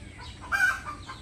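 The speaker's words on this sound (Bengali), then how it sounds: "ডিম পড়ার পরে যেভাবে ডাকে না সেভাবে ডাকছে" A hen gives a short burst of clucking calls after laying an egg, close and fairly loud, with no talking.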